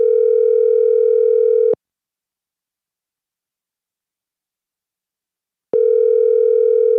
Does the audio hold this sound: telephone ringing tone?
yes